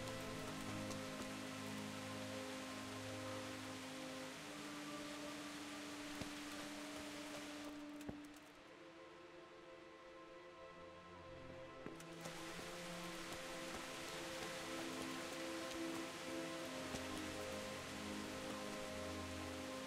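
Steady rain pours down in the medieval world of Kingdom Come: Deliverance, a dense, even hiss running nearly twenty seconds beneath low ambient tones, briefly thinning in the middle before returning at full strength.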